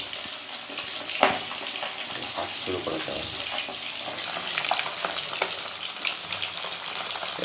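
Koi fish deep-frying in oil with a continuous bubbling sizzle, clattering of utensils, and a person speaking briefly over the cooking noise.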